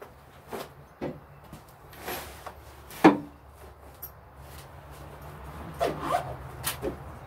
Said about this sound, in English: Let's zip this up and put these back.